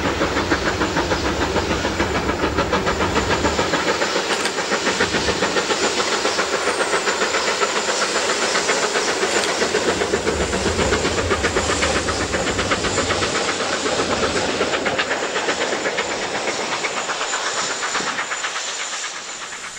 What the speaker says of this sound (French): ces dames locomotives à vapeur